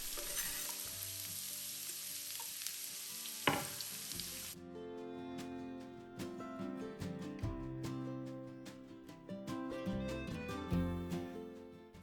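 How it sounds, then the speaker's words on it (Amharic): Onions sizzle in oil in a pan for Ethiopian shiro tibs, a steady soft crackle that grows busier partway through with scattered sharp pops; no one speaks. "ግማሽ ኩባያ የሚሆን ዘይት በድስት ወይንም በመጥበሻ አድርገን እናሰማለን። ከዛ ሽንኩርቱን ከላይ እንጨምርና"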